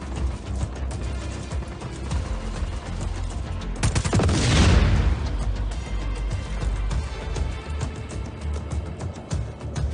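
Gunfire in Just Cause 4: a dense, continuous barrage of shots with a heavier burst swelling around the middle, loud and close, with no talk over it.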